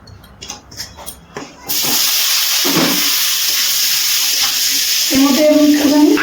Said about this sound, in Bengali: এবার আমি এই তেলের মধ্যে ভেজে নেব।